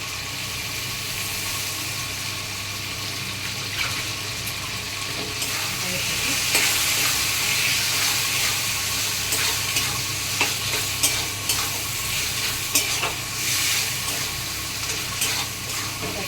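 Prawns with a little sour curd being sautéed in a pan for potol chingri dorma, a long steady sizzle under repeated scraping and stirring strokes that grow busier midway, with a low background hum and no voices.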